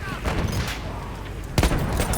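Battlefield 1 combat with machine gun and artillery fire, a dense stream of rapid shots with a heavier booming burst near the end, while a voice talks over the gunfire.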